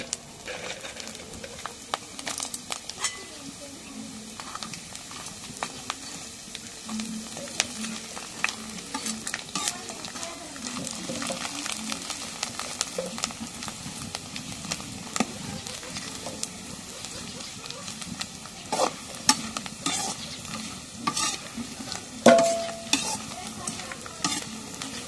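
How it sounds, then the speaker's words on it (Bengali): Papad frying in hot oil in a home kitchen, a steady bubbling sizzle with scattered crackles and utensil stirring, moderately close and continuous throughout. "এখন এই যে এগুলো পাপড় এগুলো ভাজা"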